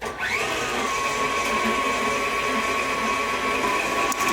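An electric mixer beats egg yolks and vanilla into gluten-free clementine thumbprint cookie dough, a steady loud whirring drone that runs continuously, close up and alone.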